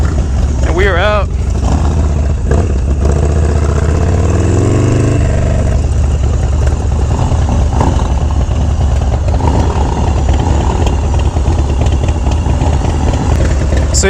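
A 1994 Harley-Davidson FXR motorcycle rumbles loudly as it rides, the engine note rising and swelling close by, with wind buffeting throughout and no speech over it.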